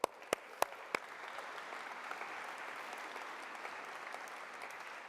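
At the Co-op Congress in Greater Manchester, a few sharp, separate claps open, then a crowd's applause builds into a soft, steady wash of many hands, faint and distant-sounding, with no speech.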